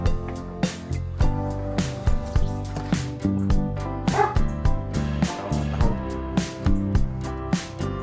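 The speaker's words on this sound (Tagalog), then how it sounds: "Tahol." A dog barks repeatedly in a steady string of sharp, loud yaps, with a few higher whimpering yips mixed in, close by.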